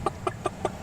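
A person's voice imitating a clucking chicken with five short, evenly spaced clucks in quick rhythm, close and moderately loud.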